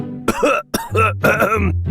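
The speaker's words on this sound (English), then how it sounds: "started coughing, clutching his chest like a dying man" An animated man coughs several times in quick, harsh bursts up close, with a brief pause partway through.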